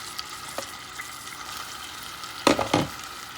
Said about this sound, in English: Stir things around a little bit.